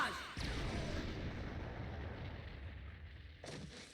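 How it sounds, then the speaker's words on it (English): Massive Rasengan Mega Barrage attack in a Naruto video game: a sustained, loud roaring blast that surges in after a brief gap, rumbles continuously for about three seconds, then breaks into a fresh burst near the end. "Sage Art! Massive Rasengan Mega Barrage!"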